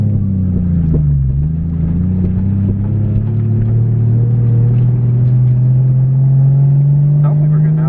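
A Toyota JZX100 with a turbo and titanium exhaust idles and revs in a loud, steady low engine drone from close by, with a rising pitch as it pulls, while people talk over it.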